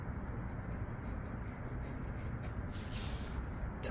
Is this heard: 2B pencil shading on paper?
yes